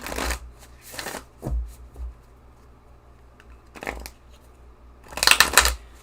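Oracle card shuffling in several separate bursts, each a quick papery riffle, with quiet pauses between and a louder final flurry.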